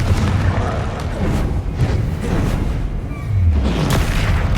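The Confringo fire-blast spell in Hogwarts Legacy, a dense rumbling boom with crackling bursts that carries on through the whole stretch, loud and close amid game combat noise.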